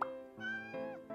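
A cat at a restaurant drink bar gives three short, clear meows close by in a quiet room.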